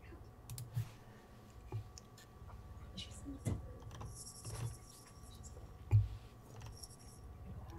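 Faint keyboard clicks tap out in irregular bursts against a quiet room background, with a few louder clacks spread through the clip.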